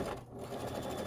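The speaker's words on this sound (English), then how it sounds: "get it good and flat, sew over that seam" A sewing machine stitching over the seam of a holiday placemat, a brief close whirring run of rapid needle strokes.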